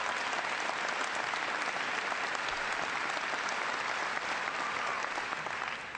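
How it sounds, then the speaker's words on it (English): Big round of applause from a town hall audience in New Hampshire, a thick wash of many hands clapping at once, loud and sustained without a break, with no speech on top. "Give Karen a big round of applause."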